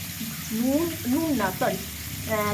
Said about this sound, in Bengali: কাঁচা পেঁয়াজটা ভালো করে ভেজে নেব